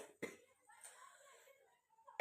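A person with a cold gives a couple of short coughs separated by quiet, with a faint breathy murmur between them and a sharper cough burst at the end.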